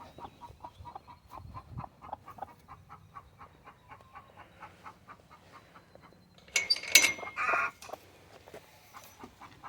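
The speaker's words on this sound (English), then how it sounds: "it sounds like I got a hen laying eggs." A hen clucks in a steady, rhythmic series of short calls from a nearby pen, then gives a louder, squawking burst near the end before the clucking resumes softly.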